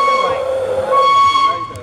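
Train whistles sound at Old Oak Common, loud sustained steam-style tones that overlap and shift pitch, sounding close by.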